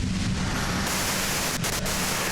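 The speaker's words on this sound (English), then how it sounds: "you can do it through the white noise" Loud, steady radio white noise hisses in the video game Disco Elysium, a dense static wash that shifts slightly in tone partway through, with brief dropouts near the end and no voices.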